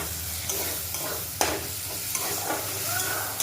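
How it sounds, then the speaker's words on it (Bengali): Young jackfruit being stirred in a hot cooking pan, a spatula scraping and clacking against the metal over a steady sizzle of frying, with a few sharper knocks. "তারপরে এঁচোটা দিয়ে নাড়াচাড়া করে গরম জল দিয়ে দিতে হবে"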